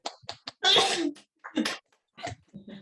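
A single loud sneeze bursts out amid brief, quiet snatches of nearby talk during a city council meeting.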